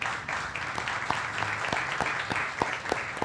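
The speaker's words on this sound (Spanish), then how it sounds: "Y les pido aún más fuerte el aplauso para este grupo excelente de jóvenes que nos acompañan" Audience applause at a public talk on suicide prevention and mental health, a steady dense wash of many hands clapping throughout, moderately loud and without speech.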